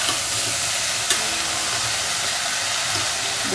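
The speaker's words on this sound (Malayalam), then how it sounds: "ഇതിപ്പോൾ 2 മിനിറ്റ് വഴറ്റിയിട്ടുണ്ട്." Onions and shallots sauté in a hot pan for bisi bele bath, giving a continuous loud sizzle with occasional scraping from stirring.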